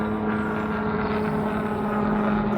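A low-flying helicopter passes over a wild camping spot, a steady droning rotor hum with a constant tone running under a rough rumble, moderately loud and unbroken throughout.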